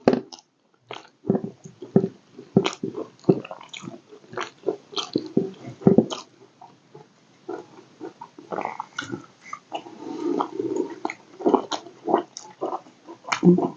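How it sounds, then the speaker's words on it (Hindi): Someone chews raw onion with village-style egg curry close to the microphone, producing a steady series of wet crunching bites and mouthy smacks, loud and irregular, with no talking. "प्याज खाने में तो और भी मजा आ रहा है।"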